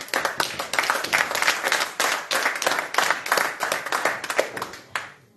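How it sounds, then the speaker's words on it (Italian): Audience applause at the final of the Memorial Elia Mimosa, an Arci di Cona tournament, with dense steady clapping from a crowd for about five seconds before it fades out. "Facciamo un applauso."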